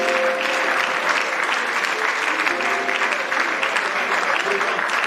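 A church congregation applauds steadily and loudly in praise, a dense continuous clapping with a lingering tonal hum beneath, sustained for about five seconds.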